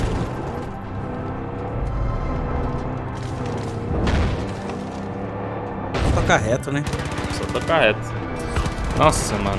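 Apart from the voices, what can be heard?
gunfire from an enemy in the video game Far Cry 5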